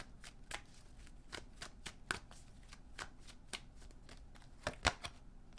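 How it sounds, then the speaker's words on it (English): Oracle cards are shuffled by hand in a quiet room, giving a series of soft, close riffling snaps at an uneven pace, with no talking. "Let's pull an oracle card for you guys"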